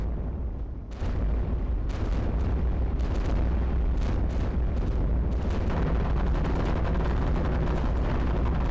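Cannons boom in the World War II tower-defense game iBomber Defense, a dense, continuous barrage of heavy shots and explosions that starts after a brief lull, loud and close throughout with no talking.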